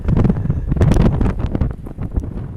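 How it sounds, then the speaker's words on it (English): Strong wind buffets the microphone outdoors on the Cornwall coast, a loud continuous roaring gust with rustling that dips slightly and then swells again. "It's so windy, but I love it."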